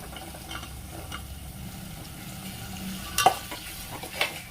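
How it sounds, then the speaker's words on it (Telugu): Green peas frying in oil for a broad-bean and pea khichdi make a low steady sizzle, with faint stirring and a couple of sharper utensil knocks toward the end. "ఆయిల్లోనే బఠానీ వేసుకోవాలి"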